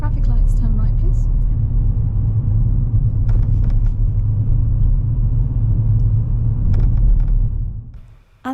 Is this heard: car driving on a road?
yes